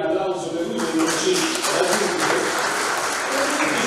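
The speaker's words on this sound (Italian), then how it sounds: "Vorrei un applauso per lui, per oggi." An audience at an award ceremony for a publishing prize in Rome applauds the recipient, a dense, even wash of clapping that carries on steadily throughout with some crowd noise mixed in.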